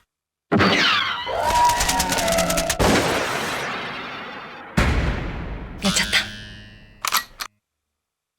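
Gunfire from a City Pop video game minigame, heard as a dense burst of loud, sharp synthetic shots and crackling blasts, broken by pauses and ending in a few isolated bright bangs.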